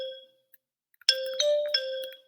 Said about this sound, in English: If I played that on my virtual xylophone,